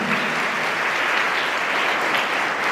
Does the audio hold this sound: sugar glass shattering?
no